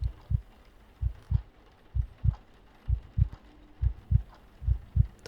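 Heartbeat sound effect for a reading of The Tell-Tale Heart, with steady low double thumps repeating about once a second, soft and close, with no voices over it.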